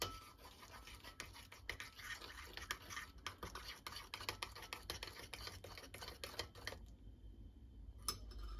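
A spoon scrapes and clicks against a container while half a spoonful of baking soda is stirred into a homemade slime mixture, quiet close scratchy strokes in an irregular rhythm, fading to near silence at the end.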